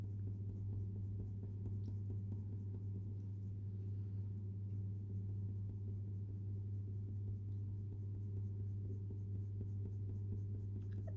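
Light-pressure colored pencil strokes on paper while drawing a beak, a faint continuous scratching beneath a steady low hum, no talking.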